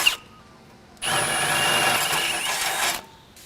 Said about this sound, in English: I'm gonna start with the smaller drill bit